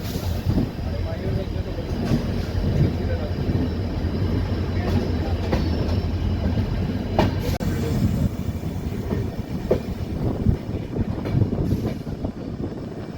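A train pulls out of Castle Rock station toward Dudhsagar in monsoon rain, its steady rumble and rhythmic clatter of wheels on rails continuing throughout, with faint voices now and then.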